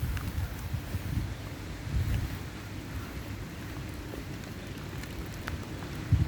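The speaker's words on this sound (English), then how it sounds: "The rain is coming down a little harder," Steady rain falling outdoors, a soft continuous patter mixed with low wind rumble, fairly close and moderately loud.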